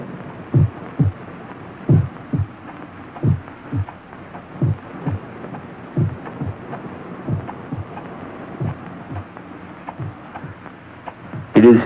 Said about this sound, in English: For many minutes, the heart beat on with a muffled sound.